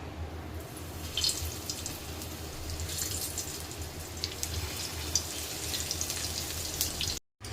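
Surmai fish pieces coated in spice masala, flour and semolina sizzling in a hot frying pan, a steady close hiss with scattered crackles and pops throughout.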